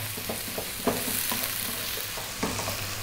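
Ginger garlic paste sizzles steadily in a pan over fairly lively heat, with a spoon scraping and stirring through it in irregular knocks and clatters.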